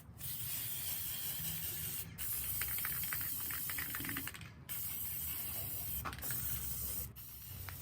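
Spray paint hisses steadily onto the tops of thrifted glass vases being upcycled as home decor, in long close bursts broken by a few brief pauses, with no talking.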